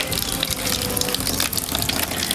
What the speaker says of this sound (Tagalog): mabuti may buhos yung gripo dito